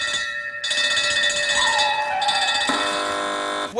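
A quiz show contestant's buzzer or bell sounds loud and close, a bright sustained ringing tone that cuts in, holds for a few seconds and shifts partway through, with no talking over it.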